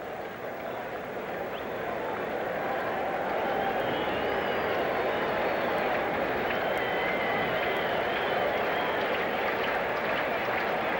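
A baseball stadium crowd at a Cincinnati Reds at New York Mets game roars steadily, a broad sustained wash of cheering that swells early and then holds loud and continuous with no voice on top.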